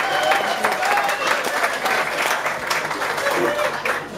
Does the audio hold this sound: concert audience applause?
yes